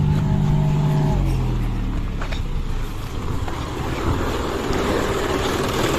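A John Deere 5105 4x4 tractor hauling a trolley labors up a slope, its diesel engine droning loud and steady, shifting pitch early on as it strains uphill, with faint voices in the background.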